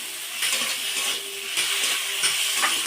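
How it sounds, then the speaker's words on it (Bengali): Semolina, peas and green chillies being fried in a pan, a close, soft sizzling hiss broken by a few stirring scrapes, with no voices. "দিয়ে দেবো সুজি, মটরশুঁটি, কাঁচা লঙ্কা, তা ভালো করে ভেজে নেব।"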